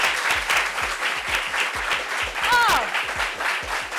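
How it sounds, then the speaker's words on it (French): A studio audience applauds a guest at a show, with a dense, sustained wall of clapping. A brief whistle-like squeal rises partway through, and voices mix in under the applause. "On applaudit pour elle, s'il vous plaît."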